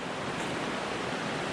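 Conewago Creek water spills over huge granite diabase boulders in a drop of about five feet, a steady, dense rushing roar heard up close with no pauses.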